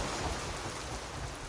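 Steady rain falling outside near a forest, a soft continuous hiss with no distinct drops, fairly faint and unbroken.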